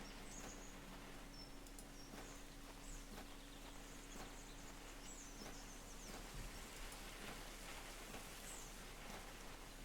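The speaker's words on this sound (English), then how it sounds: "Can you hear that rain?" Steady rain falling outdoors, a continuous even hiss with scattered drop patters and a low hum underneath, with no one speaking.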